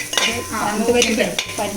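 Mackerel fish cutlets sizzle in a hot pan with little or no oil, with scraping and stirring clatters, close and continuous, no voices.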